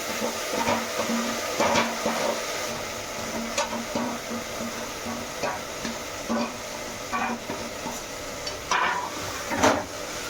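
Mutton sizzling in hot oil with browned onions in a pan, a constant fry hiss broken by occasional stirring scrapes and clinks, close and fairly loud.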